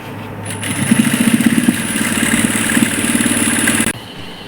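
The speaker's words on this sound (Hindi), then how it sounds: "ये देखो इस तरह से इलास्टिक के ऊपर सिलाई लगा लेनी है।" A sewing machine stitches over elastic on palazzo trousers: a loud, close motor whir with a fast, pulsing needle rhythm and a thin high whine, running steadily for a few seconds before stopping abruptly.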